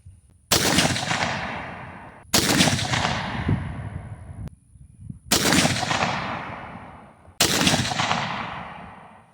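Four loud, sharp gunshots from a BCA bolt-action rifle upper ring out one at a time, each with a long echoing decay and a gap of about two seconds between shots.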